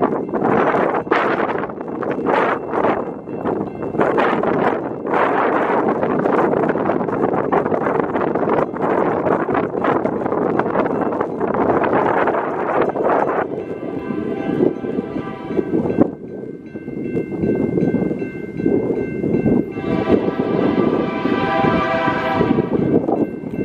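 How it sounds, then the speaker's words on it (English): Loud rumbling and rushing noise builds as a train passes close by near Joplin, Montana, with wind buffeting the microphone and high, squealing tones from the wheels toward the end. "Here comes a train."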